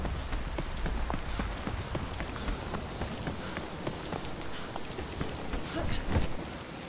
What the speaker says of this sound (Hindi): तूफानी हवाएं